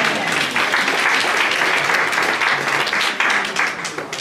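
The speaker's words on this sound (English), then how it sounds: "Let's give her a round of applause." Sustained audience applause at a Bible institute seminar honoring a woman who served the institution, a dense, steady wash of many hands clapping for about four seconds with no one speaking over it.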